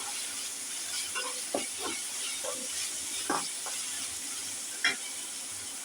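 Onions sizzling in pure mustard oil in a home kitchen, a steady frying hiss with scattered stirring clinks and scrapes throughout, quiet and close.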